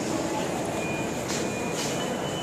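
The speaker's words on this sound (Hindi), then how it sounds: "अब हम लेंगे छतरपुर के लिए मेट्रो और चलते हैं।" A Delhi metro train runs with a steady, loud rumble and broad rolling noise throughout, with a couple of brief brighter surges and a thin high whine.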